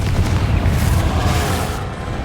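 A Confringo fire spell blasts in Hogwarts Legacy during a fight with a troll, a loud, sustained roaring burst that fills the whole moment before easing slightly at the end.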